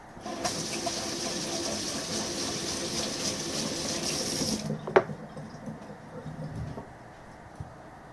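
A straight razor from a Fredrick Reynolds honing session is rinsed under a running tap, a steady close rush of water for about five seconds before it cuts off, leaving quiet room tone with a faint clink.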